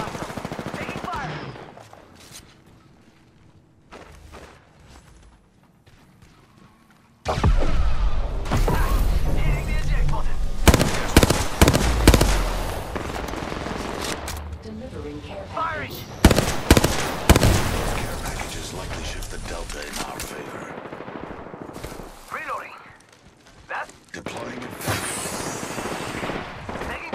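Rapid automatic gunfire in the video game Apex Legends, loud bursts of shots and weapon mechanics after a quiet opening, repeating in clusters with sharp cracks throughout.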